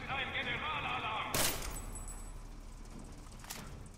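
Single sharp gunshot in the video game Deus Ex: Mankind Divided, a short loud crack midway through over steady game ambience and alarm tones, with a fainter click shortly after.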